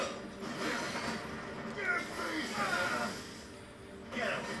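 A cat meows several times, drawn-out plaintive cries rising and falling close by, spaced across a few seconds, with a person talking quietly in the background.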